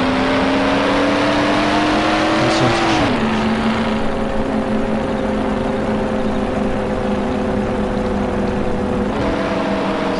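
A car engine drones steadily while driving in the Mafia video game, a loud continuous hum that drops in pitch once as it shifts and then holds evenly, rising again near the end, with no talking.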